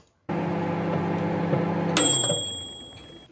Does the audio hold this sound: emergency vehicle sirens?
no